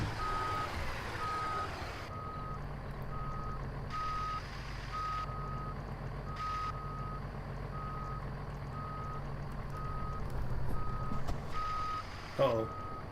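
Steady reversing beeps from a truck in American Truck Simulator sound in an even repeating rhythm over a low engine rumble, with a brief clunk near the end.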